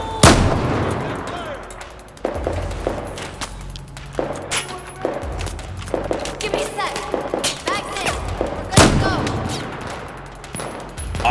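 Gunfire from the shooter Battlefield 4 rattles through a single-player campaign scene, with loud close shots, rapid bursts and distant reports in irregular clusters amid battle ambience.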